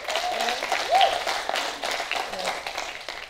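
Comedy show audience applauding and clapping steadily, a dense wash of hands throughout, with some cheering voices mixed in.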